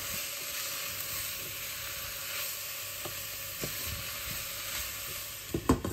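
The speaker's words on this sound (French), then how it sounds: "Je mélange bien le tout et je laisse cuire jusqu'à ce que les carottes et les haricots verts sont bien cuits." Carrots and green beans for chicken fried rice sizzle steadily in a pan with a soft continuous hiss, punctuated by a few scraping stirs and utensil knocks, louder near the end.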